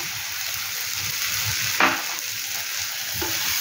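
Grated coconut is stirred into stuffed ash gourd frying in a pan, giving a steady loud sizzle with soft scraping stirs and one brief clink of the utensil.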